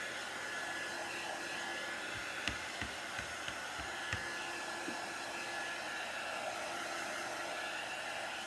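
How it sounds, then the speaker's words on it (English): A hair dryer blows with a constant, steady whoosh, accompanied by a few faint low thumps. "You can use your hair dryer"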